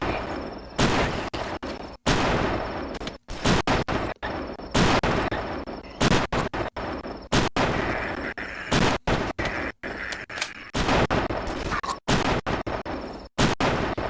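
Dense, rapid gunfire from a weapon in a zombie survival video game, with sustained bursts firing almost continuously and only brief gaps between volleys, loud and close.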